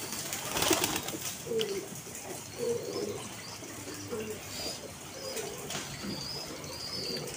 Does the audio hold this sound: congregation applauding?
no